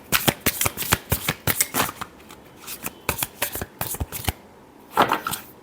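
Tarot cards riffled and shuffled by hand in quick rhythmic bursts, crisp close papery flicks repeating steadily with brief pauses.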